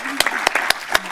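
Applause from the audience at a town council meeting, a short burst of scattered individual claps from a modest crowd in a meeting room, heard close and fairly loud with no talking over it.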